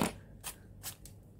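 Scissors snipping through a paper flower, three short crisp cuts spaced about every 0.4 seconds, close up over a quiet rustling background.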